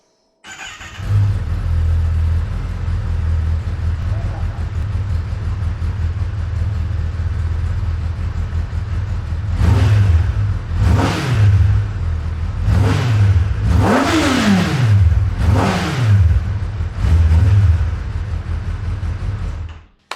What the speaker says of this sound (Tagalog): parinig ko lang sa inyo tunog ng bagong 10R sa stock exhaust